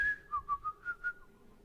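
A short, cheerful whistled tune of about five quick notes, close and clear against near silence.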